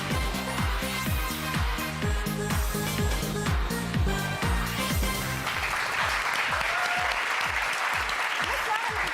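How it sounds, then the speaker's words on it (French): Audience applause at a French TV talent show, loud and steady with rhythmic group clapping through the first half, then looser broad clapping for the rest. "Applaudissements."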